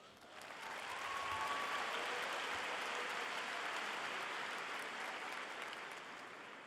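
Sustained applause from a crowd at a high school graduation ceremony, swelling quickly and holding as an even wash of clapping for several seconds before easing slightly, with no voices over it.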